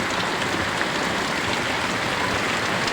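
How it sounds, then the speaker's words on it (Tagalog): Heavy rain pours steadily during a sudden downpour, a dense, continuous hiss with no break and no voices. "Biglang lumakas ang ulan."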